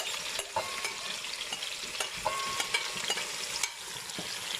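Fish frying in very hot oil for Jamaican-style brown stew fish, a steady loud crackling sizzle with sharp spattering pops scattered throughout, close and continuous.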